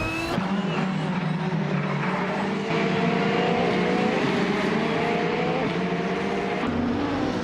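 Race cars, including a Porsche 911 RSR and a 2015 Chevrolet Corvette C7R, roar continuously at close range, their engine notes rising and shifting as they race, with no voices.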